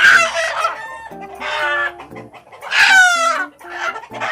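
A rooster crows loudly and nearby while chickens cluck in short bursts between the calls.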